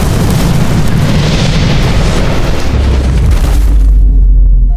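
A bomb explosion: a massive, sustained roaring blast with deep rumbling that fills the whole stretch before cutting off abruptly near the end.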